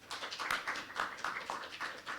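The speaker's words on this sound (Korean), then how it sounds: "네, 박수." Church congregation applauding during a Sunday worship service in Korea, a short burst of quick, fairly light claps that fade in and out without any talk.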